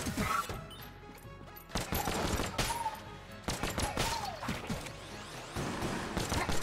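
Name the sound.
Hyper Light Blaster gunfire in video game Enter the Gungeon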